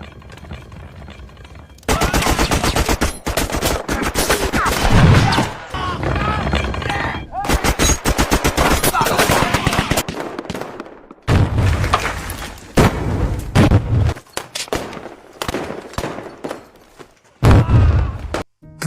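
Japanese and Chinese soldiers exchange gunfire in a war film: loud, dense volleys of rifle and machine-gun shots with booming impacts, broken by a few brief lulls.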